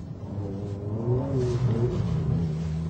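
A Ferrari F430 on the soaking wet Fiorano circuit, its engine rising in a continuous, fairly close, loud rev with a throaty tone throughout.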